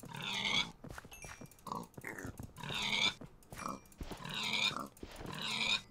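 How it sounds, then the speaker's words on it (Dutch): Pigs in the Minecraft video game squeal and grunt as they are struck, in repeated loud bursts roughly every second, mixed with clicky game effects and no talking. "Nou, dan ga ik even varkens chop choppen."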